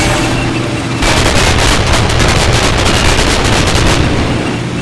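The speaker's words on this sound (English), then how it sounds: "Here's another shot of the Sherman firing at its side." Sherman tank cannon fire from the Combat Mission: Battle for Normandy war game, heard as a dense, loud barrage of booming shots and rattling gunfire that continues for several seconds with no talk.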